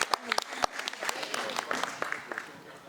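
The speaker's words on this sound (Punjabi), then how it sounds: "ਤਾੜੀ ਮਾਰ ਦੋ" Scattered clapping from a small audience, a few close, uneven claps for just under three seconds with voices mixed in.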